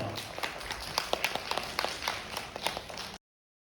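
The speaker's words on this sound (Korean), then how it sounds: "여러분들의 뜨거운 박수로 모시겠습니다. 박수 부탁드리겠습니다." A small gathering claps to welcome an obstetrician-gynecologist from a women's hospital. The clapping is quick and uneven, faint and somewhat distant, with possible voices mixed in, and it stops abruptly.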